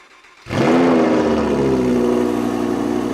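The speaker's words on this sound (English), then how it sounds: "Speaking of starting the engines, let's do cold starts. So start this Performante." A Lamborghini Performante engine fires up from cold with a sharp, loud bark, then settles into a strong, steady high idle that carries on alone.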